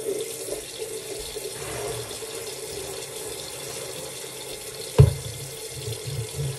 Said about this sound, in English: I'm about to wash this stuff off my face.